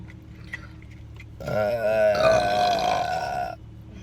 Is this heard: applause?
no